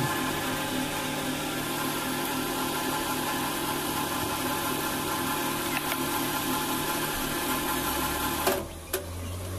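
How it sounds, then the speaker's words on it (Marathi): A semi-automatic auto-reverse coil winding machine runs steadily while rewinding a ceiling fan with 36-gauge copper wire. It makes a continuous mechanical whir and hum with a couple of brief clicks near the end, and no one speaks. "ही मशीन ऑटो रिव्हर्स फॉरवर्ड आहे, सेमी ऑटोमॅटिक मशीन आहे"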